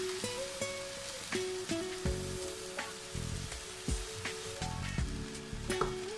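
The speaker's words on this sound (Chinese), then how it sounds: "小火焖制面条" Noodles laid over green beans braise in an oiled pot over low heat, giving a steady close sizzle with bubbling pops and faint scraping stirs throughout.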